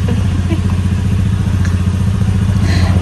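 A Pulsar motorcycle engine running close by, a loud, steady low rhythmic putter like idling, with faint background sounds over it.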